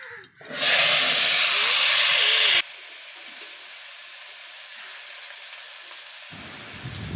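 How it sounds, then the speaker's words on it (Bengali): Cut potatoes dropped into hot oil with cumin seeds erupt in a loud, bright sizzle that holds for about two seconds, then the sound falls to a quieter steady frying hiss until the end. "এবার একটু আলু কেটে রাখা আলুটা এবার দিয়ে দেবো, দিয়ে ভালো করে ভেজে নেব লাল লাল করে।"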